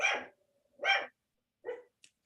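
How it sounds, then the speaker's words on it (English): A female dog barks indoors during a podcast recording, three sharp barks spaced about a second apart followed by a short faint yip, each loud and close with silence in between. "She keeps barking."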